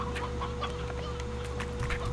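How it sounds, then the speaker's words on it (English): Chickens clucking in the video game Slime Rancher, a steady run of short clucks at moderate distance over a constant low hum. "I'm gonna shoot some chickens at you."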